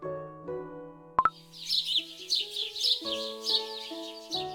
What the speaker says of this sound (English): Hello, little birds. Come for your morning berries again?